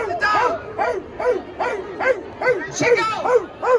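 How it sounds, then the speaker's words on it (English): A dog barks and yips repeatedly in quick, excited bursts at a WNBA championship parade in Las Vegas, loud and close amid crowd noise. "Where's the dog?"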